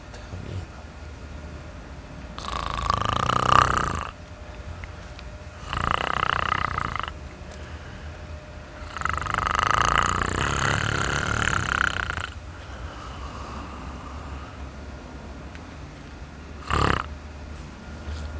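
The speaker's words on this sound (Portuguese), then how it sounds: "Você tava roncando aí" A man feigning drunkenness lies snoring, giving four long rasping snores spaced several seconds apart, the last one short, loud and close against a quiet background.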